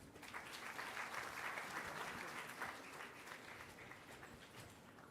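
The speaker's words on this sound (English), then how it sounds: "Good round of applause." An audience at a formal gathering with the Governor breaks into a sustained round of applause, dense clapping that swells then gradually thins, heard from a slight distance.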